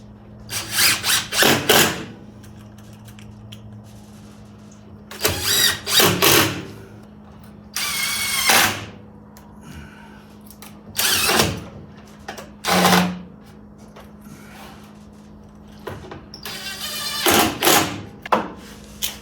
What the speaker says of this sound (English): And then I'll just put in my screws.